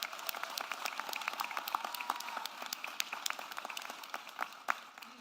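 An audience at an economic development announcement with the Texas governor and Southwest Airlines breaks into applause, a dense, steady patter of many hands clapping at moderate distance that carries on throughout.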